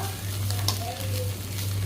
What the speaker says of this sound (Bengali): আমার মাছ ভাজা আর একটু হবে আমি ঢেকেই ভাজবো